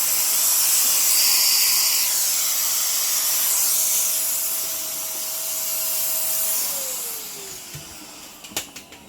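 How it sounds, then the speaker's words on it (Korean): A vacuum cleaner sucks dust out of a Brother CS6000i home sewing machine being repaired for an E6 error, a steady loud whooshing hiss with a thin whine that drops in pitch near the end, followed by a few sharp knocks. "진공 네, 청소기를 이용해서"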